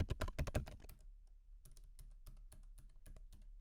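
Computer keyboard keys clatter in a quick burst of typing while filling in a web form, then continue as sparser, softer individual keystrokes at an uneven pace, close and fairly quiet.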